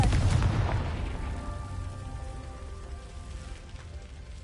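A Confringo fire spell blasts in Hogwarts Legacy: a loud booming burst up front that decays into a crackling, rain-like hiss over several seconds, with no voices.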